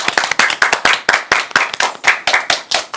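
Children in a group clap their hands at a Ramadan-themed gathering. The claps come in clear, fairly regular bursts, close and loud, with a few hands out of step. There is no talk over them.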